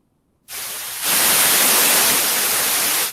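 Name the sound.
white noise signal played in a computer music lesson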